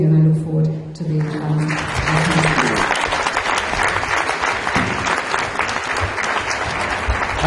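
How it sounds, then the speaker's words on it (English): Loud, sustained audience applause fills a conference hall after a speech at a family planning conference in Nigeria, dense clapping continuing steadily after an opening stretch where a voice is still heard. "I think she deserves a standing ovation, ladies and gentlemen."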